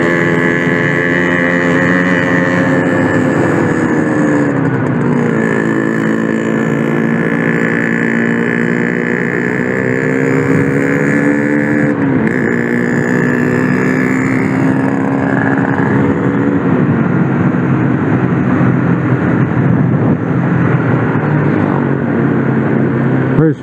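A truck rolling slowly along a road near Lembang and Ciater, a loud steady engine drone with slowly shifting tones as it labours along, heard from close by under occasional talk.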